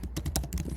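Quick run of keyboard keystrokes while an email address is typed, a close, rapid clatter of clicks lasting under a second with no voices.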